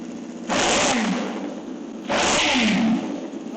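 A PPE delivery motorcycle with a new exhaust is revved in two short, sharp blips over a low idle, each a loud rising roar that quickly falls back to the steady rumble.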